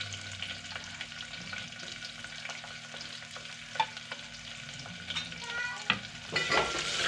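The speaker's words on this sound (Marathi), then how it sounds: "कांदा बारीक भाजायला पाहिजे बरा छानपैकी।" Finely chopped onion fries in a pan for dal, giving a steady close sizzle with soft stirring scrapes and a brief louder burst near the end, no voices.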